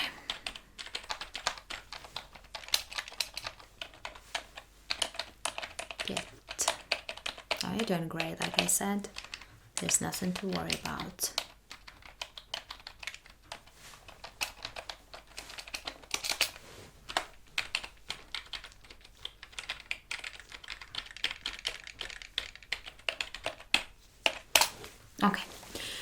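Rapid computer keyboard typing clicks in irregular bursts run throughout, close and crisp, while a soft-spoken voice talks reassuringly at times during a cranial nerve exam roleplay.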